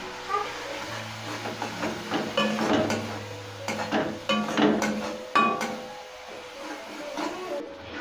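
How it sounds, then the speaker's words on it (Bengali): Masala spiced with turmeric and chili powder being fried in oil and stirred for a fish-roe dhoka curry, with a steady sizzle and repeated scraping and clanking of a spoon against the pan, close and fairly loud. "মশলাটা ভালো করে কষানো হয়ে গেছে।"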